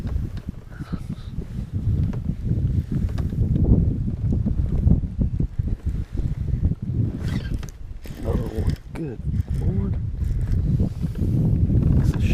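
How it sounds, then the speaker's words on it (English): Strong wind blows across an open lake during a fishing trip, a loud, continuous low rumbling buffet against the microphone with gusts throughout, and someone talks faintly underneath. "And the wind is just too much out there."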